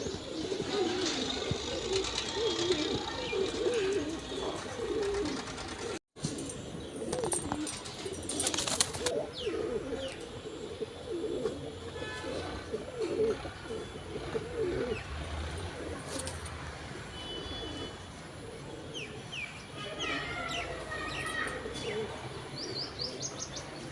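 Pigeons of the Baba Dhanne wali breed at a pigeon farm coo steadily and continuously throughout, nearby, with soft chirps and a single sharp click partway through.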